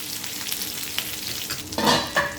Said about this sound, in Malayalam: ഇതേപോലെ എല്ലാ ചിക്കനും ഫ്രൈ ചെയ്തെടുക്കാം